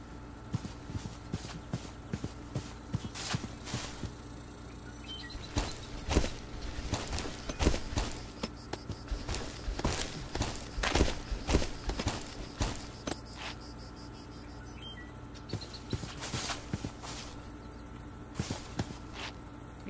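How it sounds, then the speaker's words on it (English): A horse walking in the video game Minecraft, with soft repeated clip-clop hoof steps in a steady rhythm over quiet night insect chirps, fairly faint. "Oh my god, that horse scared me."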